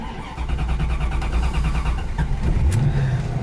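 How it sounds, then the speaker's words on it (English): A 1996 Chevrolet Corvette Collector's Edition coupe engine starting up and then revving freely, a loud, close, steady engine roar that rises in pitch toward the end. "Very nice free revving engine."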